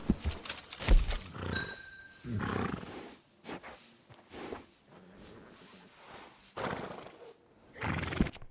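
A horse in the Red Dead Redemption 2 video game whinnies and snorts in a few separate bursts, with hoof clip-clops and low ambient rumble between them, fairly close and moderately loud.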